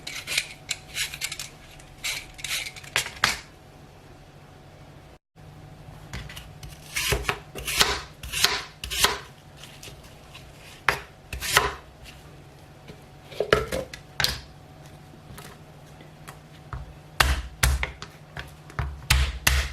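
Sharp, scattered knife clicks and cuts against a board as an apple is peeled and cut, with quiet scraping between them, close by and no talking.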